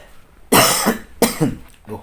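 Two harsh, close coughs in quick succession, followed by a softer third, with no talking.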